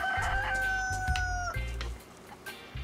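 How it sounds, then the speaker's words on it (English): A rooster crows in the video game DayZ, a long drawn-out cock-a-doodle-doo with steady harmonic tones that fades out over a droning low background hum. "Where's that fucking rooster?"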